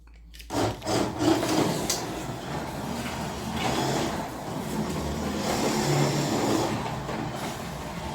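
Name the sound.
Carrera 1:24 BMW M4 slot car running on track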